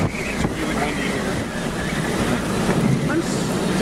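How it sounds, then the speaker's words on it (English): Strong wind gusts roar and buffet the microphone near a tornado in El Reno, Oklahoma, a loud, constant rushing with gusty swells, while people talk underneath. "It's really windy here."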